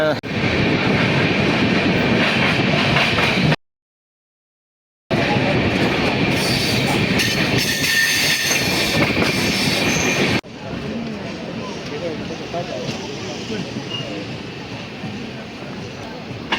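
A passenger train heading from Ahmedabad toward Surat rolls along with a steady loud roar and rattling wheels, cutting out briefly before the rumble resumes at a slightly lower level.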